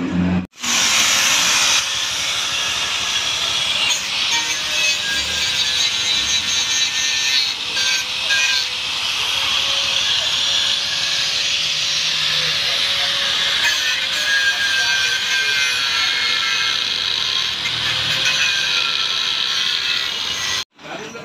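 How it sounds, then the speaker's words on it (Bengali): Welding a broken motorcycle stand in a garage, a loud continuous crackling hiss that holds steady for most of the run, close up, with brief faint voices in the background. "জ্বালাই কৰিব লাগিব, ওয়েল্ডিং কৰিব লাগিব"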